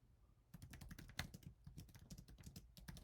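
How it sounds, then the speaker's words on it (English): Fingers type on a computer keyboard, a quick, irregular patter of close, crisp key clicks with one heavier press, no voices. "I cannot type today."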